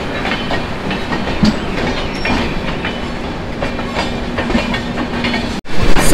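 The Sampark Kranti Express from Tirupati to Delhi rolling past close by, a loud continuous rumble with rhythmic clickety-clack of wheels over rail joints, ending in a sudden gust as the last coaches pass.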